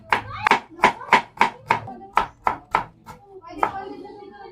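Garlic cloves, four of them, chopped with a knife on a board for pork adobo: about ten crisp, evenly spaced knife strikes, close and clear, with no talk.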